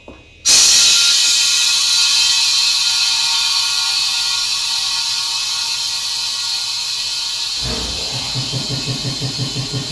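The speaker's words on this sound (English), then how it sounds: "Now this is the air hose." A compressed-air hose blasting into a tire during a tire change, a loud steady hiss that starts abruptly and runs on, joined near the end by a rapid rattling pulse as the tire fills.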